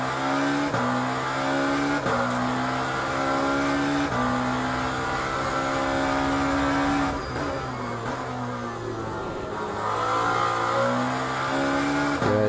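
In the racing game Le Mans Ultimate, a race car's engine drones steadily, rising and dropping with repeated gear shifts and throttle changes, loud and continuous with a faint tyre squeal.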